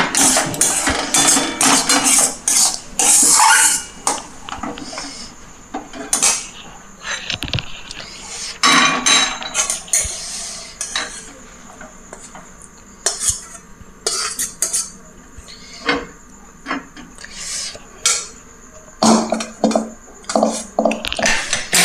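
Clinks and scrapes of a metal utensil against a pan as a spicy Bengali Bombay duck (lote fish) dish is finished and lifted off the stove, an irregular run of close, sharp taps and stirring scrapes with short pauses.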